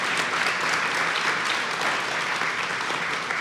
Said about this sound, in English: Please join me one more time in giving a wonderful round of applause for our incredible panel.